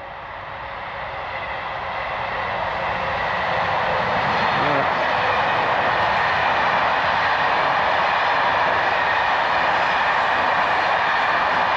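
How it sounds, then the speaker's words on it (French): An Intercités train locomotive approaches and passes, a broad rumbling roar that swells over the first few seconds and then holds steady and loud, with a single word spoken faintly over it. "Oh oui, ça c'est le bruit d'une locomotive"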